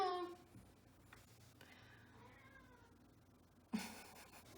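A cat meows close by twice, a drawn-out complaining cry at the start and a short sharp one near the end, with quiet room sound between.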